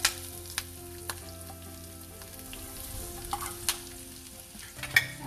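Onions fry in a pan of hot oil with cumin seeds, green chilies and curry leaves, a steady close sizzle crackling throughout, with occasional sharp pops and stirring clatters over the bubbling.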